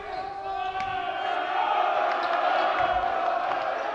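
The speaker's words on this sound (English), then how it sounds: "You can hear the crowd say it." A high school basketball crowd cheers at a championship game between St Frances and Gonzaga College High School after a three-pointer, a sustained, loud roar from many voices with a few sharp accents on top.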